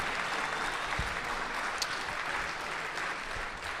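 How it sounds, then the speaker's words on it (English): An audience applauds at a live debate, steady clapping through the whole stretch, moderately distant and fairly quiet, with a few soft thumps mixed in. "give these guys a round of applause."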